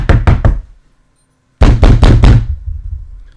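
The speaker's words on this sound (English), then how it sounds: "Maybe I'll just have to knock on my own door." Knuckles rap on a home's door in two quick bursts of three sharp knocks, close and loud, with a short silent pause between the sets.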